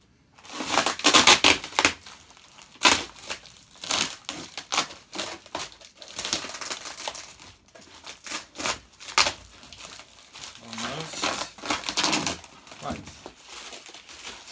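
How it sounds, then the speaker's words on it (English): Packaging being peeled and torn off a parcel box holding a Hoover, close crinkling, crunching and ripping of paper and cardboard in uneven bursts, with a person speaking at times. "Let's take off some of this packaging."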